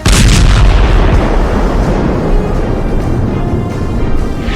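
A car explodes in a loud, heavy boom at the start, followed by a sustained roaring rumble that lingers for several seconds.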